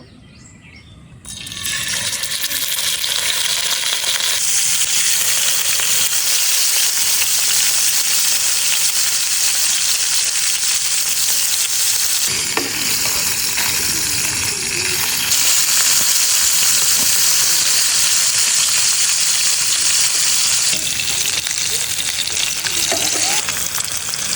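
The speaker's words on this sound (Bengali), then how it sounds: "তো এবার কুটে রাখা মাছটাকে ভেজে নেব" Loud, steady sizzling of pangas fish pieces frying in hot oil, continuous throughout with occasional stirring scrapes and no voices.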